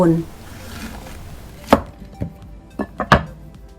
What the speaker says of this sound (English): Cut into quarters.